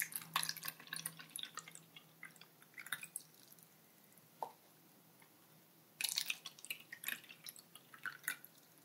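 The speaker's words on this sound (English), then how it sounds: "I got a lot of requests to do a water pouring video." Water is poured and dripped into a plastic cup close up, with soft intermittent drips and short splashy bursts of pouring, alone and quiet, with no talking.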